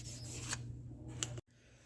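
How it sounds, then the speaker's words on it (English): Sanding oxidation off metal on an ATC200x during restoration: a steady, faint forward-and-back scraping rasp close by, with a brief rougher stroke near the end before it cuts off. "I'm going to go just forward, backward on the sanding"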